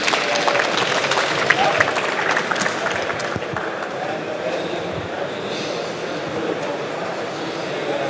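An audience claps steadily, a dense wash of applause that holds for several seconds with a voice heard faintly underneath.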